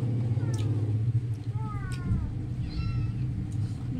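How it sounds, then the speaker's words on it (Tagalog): A cat meows three times in short, fairly faint calls over a steady low hum. "Yung pusa ko."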